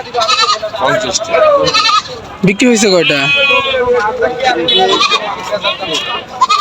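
Several goats bleat loudly and repeatedly at close range amid a busy crowd at a Qurbani livestock market on 300 Feet Road, Khilkhet, with people talking over and between the calls.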